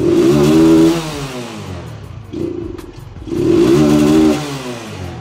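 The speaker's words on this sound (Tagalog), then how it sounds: "Tignan nyo, palyado." A small engine revs up hard twice with a rough, uneven, stuttering misfire, falling back to a choppy idle between the two loud bursts, with no talking.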